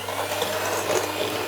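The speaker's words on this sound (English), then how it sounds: "We'll just start creaming these together" Butter and caster sugar being creamed together in a mixing bowl, a steady whirring mechanical drone with a constant low hum running throughout, close and fairly loud with no pauses.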